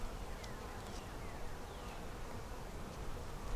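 Dense, steady buzzing of many honey bees on a hive frame close by, a continuous droning hum with no voices.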